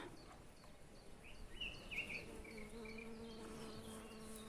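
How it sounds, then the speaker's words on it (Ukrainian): Bees buzz around onion flower heads in a summer garden, a soft continuous drone with some high chirps weaving through it, faint and steady throughout. "Бджіл на ній завжди повно. Дуже люблять вони квіти цибулі."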